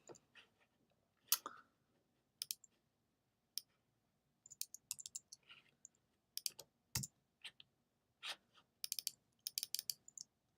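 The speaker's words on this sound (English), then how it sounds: "Triple click to select a line." Computer mouse clicks during web page editing on a computer, arriving as scattered sharp taps and short bursts, some close together in quick runs such as triple clicks, with a quiet background and no talking.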